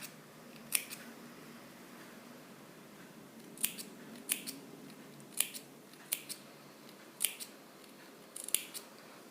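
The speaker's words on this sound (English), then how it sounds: "Now notch into the seam allowance only on the areas where it is stitched, especially at the curved areas." Scissors snip notches into the fabric seam allowance of a stand collar, giving a series of sharp, quiet clicks, some single and some in quick pairs, spaced irregularly against a soft background hush.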